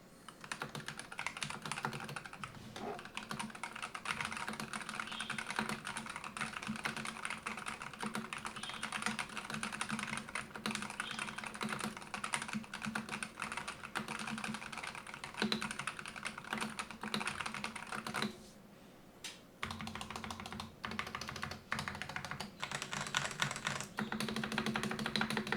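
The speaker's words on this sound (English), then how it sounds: "And I'll be doing sound test out of this keyboard" Steady typing on a Logitech gaming keyboard, a dense run of close, loud key clicks and clacks that pauses for about a second near the 19-second mark before resuming.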